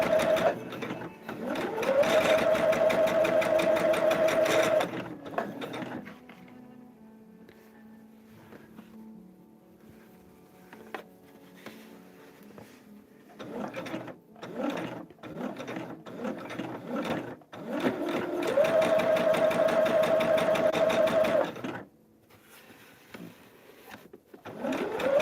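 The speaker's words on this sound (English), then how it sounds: "we're going to do the stitching in between the solid line, which is a sew line" A sewing machine stitches a table runner along a sew line, running in two sustained loud bursts at the start and near the end, with quieter handling and rustling of fabric in between.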